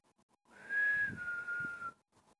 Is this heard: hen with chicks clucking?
no